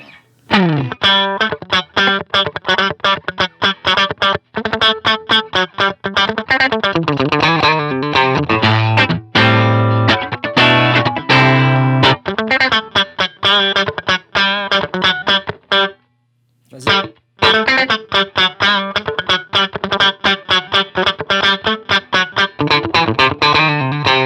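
Distorted electric guitar riffs through a Line 6 HX Stomp amp simulator, dry with no reverb, played in quick bursts of chords and single notes, with a brief pause in the middle.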